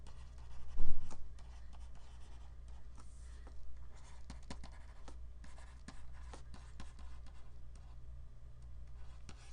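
Pen or marker writing out notes during a calculus lecture on curves and regions, heard as scratchy strokes and taps that start and stop irregularly, with one louder thump near the start, against a quiet room hum.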